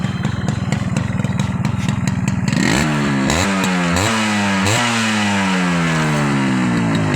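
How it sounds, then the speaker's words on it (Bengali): A motorcycle engine running smoothly with no odd noises, first idling steadily, then revved in several rising and falling bursts, loud and close, with no talk. "ইঞ্জিনে কোনো ধরনের বাজে কোনো সাউন্ড নাই একদমই স্মুথ ইঞ্জিন"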